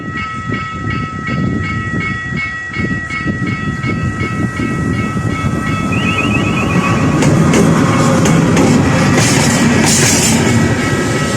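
A loud Iskenderun train rumbles past close by, wheels clattering over the track with a brief high squeal partway through, steady and without talk.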